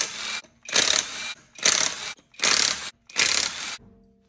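Impact wrench taking the front wheel lug nuts off a 2017–2019 Toyota Highlander, five loud, close rattling bursts in steady succession with short pauses between them.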